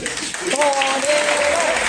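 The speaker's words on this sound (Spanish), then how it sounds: "Y quiero que vuelvan a darle este aplauso." Applause from the audience at a book presentation, steady clapping throughout with a voice calling out over it partway through.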